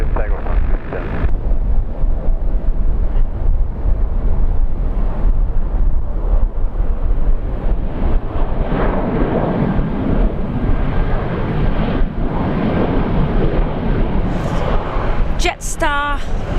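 Jet airliner taking off from Brisbane runway 19 right, a loud continuous broadband engine roar with wind buffeting that holds steady throughout, ending with a brief chirping sound.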